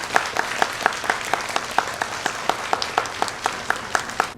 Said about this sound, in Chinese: 敬请大家给予热烈掌声